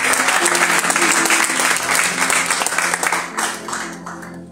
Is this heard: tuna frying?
no